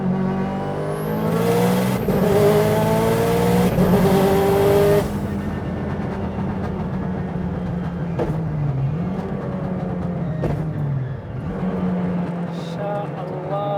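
Close, loud engine of a Subaru STI race car tuned to 875 hp with adjustable boost revving hard through rising gears, then settling into a steady rumbling drone with brief shifts and dips.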